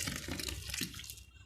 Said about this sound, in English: So when it thickens up, I add water to it.